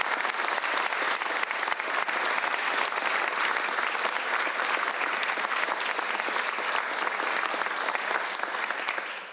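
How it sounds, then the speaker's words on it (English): Sustained, dense applause from an audience of grassroots supporters at a firearms bill signing, steady and loud throughout before tapering slightly at the end. "please give a round of applause from the elected officials to all of you"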